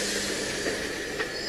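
A Network SouthEast AC electric multiple unit creeps forward toward a coupling, giving off a steady mechanical hiss and rumble with a faint squeal near the end.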